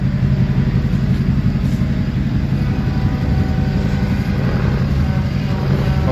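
Powerful 1,000-horsepower pickup trucks rumble loudly nearby in a steady, dense engine drone with no clear revs or pauses.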